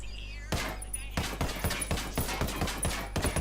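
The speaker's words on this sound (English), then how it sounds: "so it's single shot with a suppressor, and then full auto with a suppressor, and then suppressor off, and then single shot with the suppressor off" Ghost Recon Wildlands gunfire, suppressed and unsuppressed, single shots and full-auto bursts: an opening shot, then a rapid series of sharp, evenly spaced reports, near and moderately loud.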